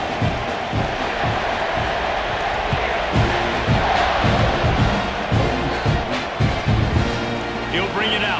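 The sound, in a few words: football stadium crowd cheering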